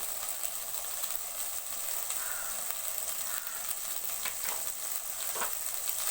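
Chopped tomatoes with turmeric sizzling in a pan for an Andhra-style prawn fry, a steady soft hiss of frying with a few faint stirring scrapes, quiet and close, no talking.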